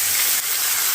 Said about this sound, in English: Oh God, I love this sizzling sound.